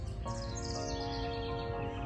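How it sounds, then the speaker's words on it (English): Birds chirp and sing continuously over a steady outdoor background hum in Van Vleck Gardens, the calls moderately close and layered throughout. "listen to the birds."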